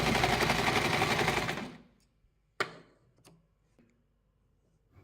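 An Usha Janome Dream Stitch sewing machine runs a loud, steady stitching burst for about a second and a half, then stops, leaving a few sharp clicks and knocks from the machine in near silence.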